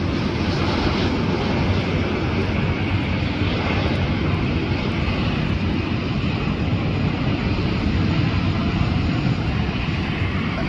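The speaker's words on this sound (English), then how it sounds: "Touching down after a 16-hour flight from Sydney." A Qantas airliner in oneworld livery, arriving from Sydney after a 16-hour flight, touches down at LAX with a loud, steady roar of jet engines and rushing air that holds constant throughout.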